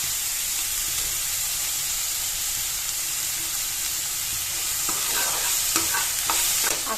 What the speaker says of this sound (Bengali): দিয়ে দিলাম পেঁয়াজ কুচি। এটা কিন্তু বেশ 3-4 মিনিট ধরে ভাজা ভাজা করতে হবে